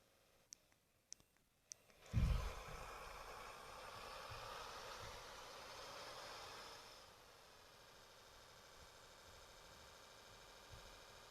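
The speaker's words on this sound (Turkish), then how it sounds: "Bakın sesi dinleyelim." A few sharp clicks, then a car engine in a single-road driving video game starts with a thump and runs loud and rough for several seconds before settling to a quieter steady idle.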